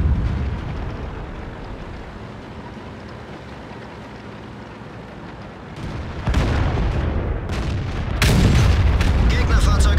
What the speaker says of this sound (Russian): Из стога вылетел снаряд 152 мм.